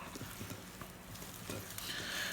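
Dog treat dough being worked with a spatula in a bowl, quiet soft scraping and squelching strokes at close range, growing a little louder toward the end.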